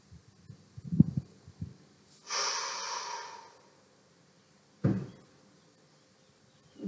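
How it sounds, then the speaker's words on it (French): A person exercising breathes audibly: a few low thumps and rustles, then one long strong exhale, a pause, and a shorter sharp breath, close and otherwise quiet. "On inspire."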